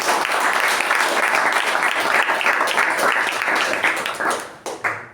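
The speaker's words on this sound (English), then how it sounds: "So give a huge round of applause for an amazing speech and amazing evaluation." Loud, dense applause from a meeting audience fills the room after a speech and evaluation, sustained throughout before tapering in ragged final claps.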